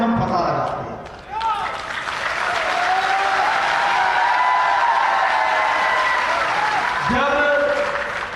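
Loud, sustained applause from a large crowd at a political election rally, a dense wash of clapping that swells after a brief dip and holds steady, with shouts and a voice breaking through near the end.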